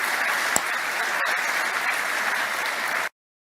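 Applause from a debate audience, steady dense clapping at a moderate level that continues for about three seconds and then cuts off abruptly.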